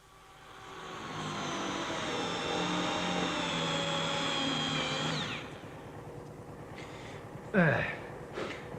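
A steady high-pitched motorized whine runs for several seconds, then winds down, followed by a few faint clicks and a short rising squeal.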